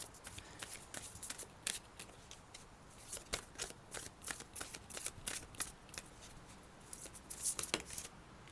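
Moon oracle cards are shuffled by hand, a close, quiet run of rapid riffling flicks and soft slaps in uneven bursts, with a few sharper snaps near the end and no talking.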